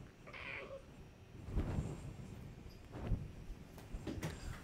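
A pet cat makes a few soft meows and low purring rumbles close to the microphone in a quiet indoor room, with faint rustling between sounds.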